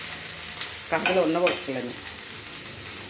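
Onions frying in oil for a potato fry, a soft continuous sizzle with a few stirring scrapes, and a brief stretch of speech in the middle.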